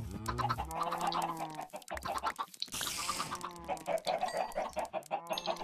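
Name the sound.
chickens clucking in Minecraft video game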